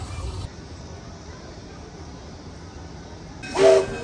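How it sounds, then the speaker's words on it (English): A zoo train passes below an elevated viewpoint, its low rumble steady and distant, topped near the end by a short, loud whistle blast. "Train's gonna go right below us."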